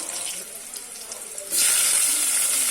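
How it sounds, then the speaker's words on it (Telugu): Onions and chilies frying in a pan, a steady close hiss that jumps to a loud, bright sizzle halfway through and holds. "ఆనియన్స్ వేయించుకోండి."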